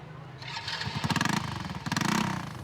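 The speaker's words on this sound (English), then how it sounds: "What they like is the electric start, the 100cc motor, and the fact it's got seating for 5." A 100cc motorcycle is started on its electric starter: a short whirring crank, then the small engine catches into a rapid, buzzy idle that stays steady and fairly close.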